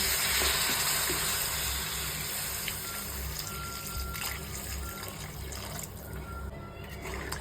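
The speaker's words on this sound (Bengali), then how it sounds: "এবার আমি পরিমাণ মতন জল দিয়ে দিলাম" Water poured into a cauliflower curry cooking in a pan, a steady rushing pour and hiss near the mic lasting throughout, gradually softening toward the end, with no talking.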